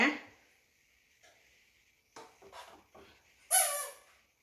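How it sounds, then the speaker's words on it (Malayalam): A chair creaks indoors with a few thin squeaky groans spaced apart, the last one louder and sharper, all fairly quiet in a calm room. "ഇവിടെ ഇരിക്കുന്ന കസേരന്റെ സൗണ്ടാണ് കേട്ടോ അത്"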